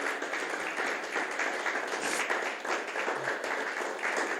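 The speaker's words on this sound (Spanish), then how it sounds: "Denle un fuerte aplauso al Señor." A church congregation breaks into sustained, steady applause, a dense wash of clapping from many hands that holds at an even level throughout with no voices rising above it.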